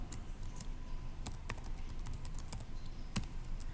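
Typing on a computer keyboard, quick irregular clicks of keys close by, some taps sharper than others, with no voices.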